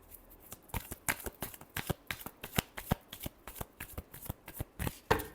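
Tarot cards being shuffled by hand in a fortune-reading session, a rapid run of crisp riffling snaps and flutters repeating steadily for several seconds, close and clear with no talking.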